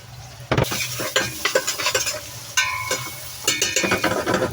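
Onion sizzling in a pan for a prawn dish, stirred with a utensil that scrapes and clatters in repeated strokes over a steady loud fry, close up and without talk.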